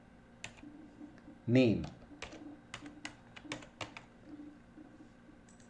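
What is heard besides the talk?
typing code on a computer keyboard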